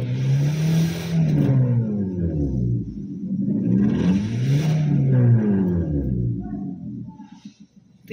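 A car engine with a failed, clogged catalytic converter revs up and falls back in two long swells, rumbling loud and close, then settles near the end.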